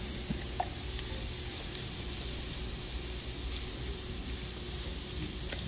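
Chopped bell peppers and onion sizzle steadily in a pan, a soft continuous hiss and crackle with faint clinks, fairly quiet and without talk.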